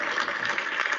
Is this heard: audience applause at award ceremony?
yes